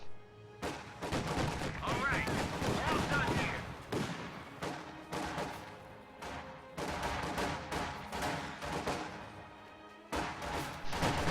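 Repeated bursts of flak half-track gunfire from a World War II strategy video game pound in irregular clusters of sharp cracks and booms, with voices talking over much of it.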